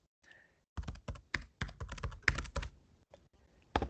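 Typing on a computer keyboard, with quick bursts of close, crisp key clicks in an irregular rhythm, then a pause and a final few keystrokes, in an otherwise quiet room.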